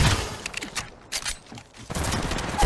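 Rapid gunfire from the mobile shooter Apex Legends Mobile: close, loud bursts of automatic shots crackle in clusters, with brief lulls between volleys.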